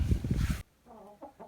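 Chickens in a chicken stable: a loud burst of clucking and squawking for the first half second, then a few quieter, softer clucks trailing off.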